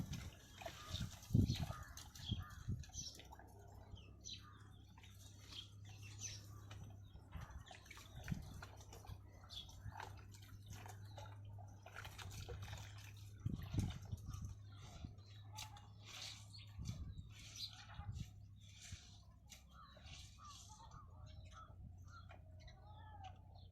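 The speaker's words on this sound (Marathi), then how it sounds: "आता ह्या टपामध्ये कपड्याने गाळून घेणार आहोत" Soaked, ground wheat milk for kurdai being strained through a thin dupatta cloth into a tub, giving soft intermittent liquid splashing and pattering, with occasional louder pours over a steady low hum.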